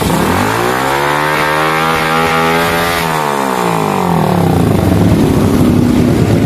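A Suzuki Smash motorcycle engine revs hard to about 8,000 RPM, the loud harmonic whine climbing for three seconds, then dropping back and settling into a rough, sputtering idle, close and alone.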